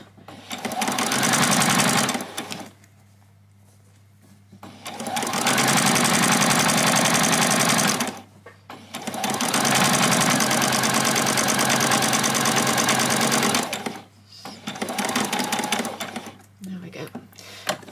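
A sewing machine stitches a small doll's dress in three long, steady runs of loud, close needle whirring, separated by brief pauses, while a voice talks at points over the sewing.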